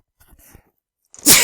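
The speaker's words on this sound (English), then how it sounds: "See if I feel like sneezing." A single loud, close sneeze bursts out near the end, following a brief stretch of quiet murmuring in a classroom-style math lesson.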